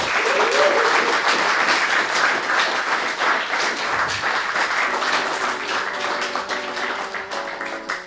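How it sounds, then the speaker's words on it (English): A live podcast audience claps for its guests in a steady, close round of applause, with a few faint voices mixed in. "can we give them a big round of applause?"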